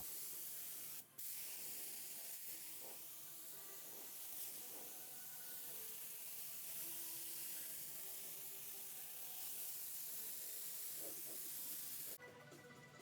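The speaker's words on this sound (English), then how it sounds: "I spray every surface with Omni epoxy primer" A spray gun lays Omni epoxy primer over a cleaned Nissan 240SX car body in a steady, unbroken hiss that runs almost the whole time, with a brief pause early on and a louder burst near the end.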